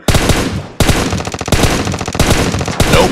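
Rapid automatic gunfire from PUBG Mobile, several loud sustained bursts broken by short pauses, sharp and close, with no talk over it.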